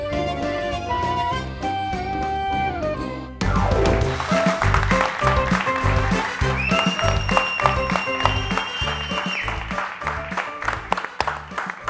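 A burst of music cuts into loud, sustained applause from a large television studio audience, clapping continuing steadily while music plays underneath.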